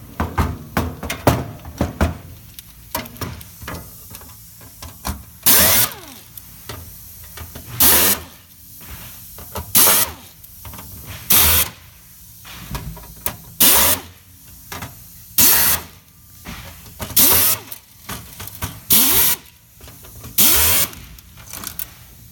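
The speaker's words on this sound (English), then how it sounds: "so I'm just going to start popping screws." A power screwdriver backing screws out of a computer motherboard during disassembly: about ten short whirring bursts at a steady pace, loud and close, separated by quiet handling clicks.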